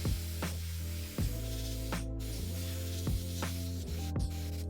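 A Harder & Steenbeck Infinity CR Plus airbrush is blown through with cleaning alcohol: a steady, close spray hiss with short sharper bursts of air, and no talking.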